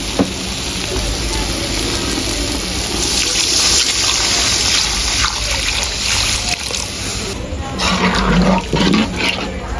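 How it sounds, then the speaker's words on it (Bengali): Water poured into a pan of hilsa fish curry cooking with mustard, a running splash over a steady sizzle that grows busier toward the end, close and unbroken. "এখন পরিমাণ মতো পানি দিয়ে দিব।"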